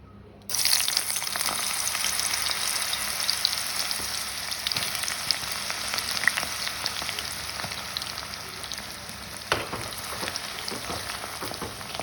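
Raw plantain frying in a pan, a loud, continuous crackling sizzle that starts abruptly and holds steady throughout, with occasional pops and scrapes and no talk.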